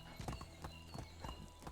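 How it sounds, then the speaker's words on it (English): Horse hooves clip-clop in a quick, uneven rhythm in the medieval village game Medieval Dynasty, with several hoof strikes close by and low background noise. "when the horses get into the water, they slow down."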